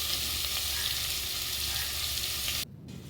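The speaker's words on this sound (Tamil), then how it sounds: "கொஞ்சம் மீடியம் ஃப்ளேம்லேயே வச்சு ஒரு 10 மினிட்ஸ் நல்லா வதக்கிக்கலாம்." Onions sautéing in oil over a medium flame for mutton biryani in a pressure cooker, a steady dense sizzle with soft stirring that drops suddenly quieter near the end.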